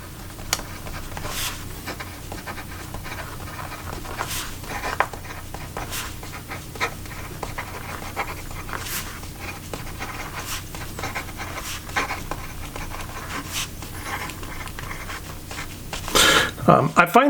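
A Montblanc Marilyn Monroe fountain pen with a fine 14 karat gold nib writes on paper, giving faint, steady scratchy strokes with periodic short ticks, close and quiet throughout.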